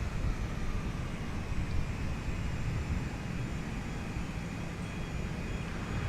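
Airbus A320neo engines idling after landing, a steady, even broadband roar and hiss holding unchanged throughout with no voices.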